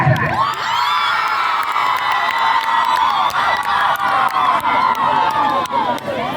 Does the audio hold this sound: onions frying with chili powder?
no